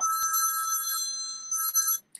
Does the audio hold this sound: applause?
no